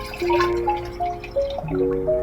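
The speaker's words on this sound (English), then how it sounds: "I'm just going to take the juice, pour it into here" Fruit juice for home-brewed guava, dragon fruit and pineapple wine is poured into a vessel, a short gurgling pour with shifting tonal glugs, close and alone.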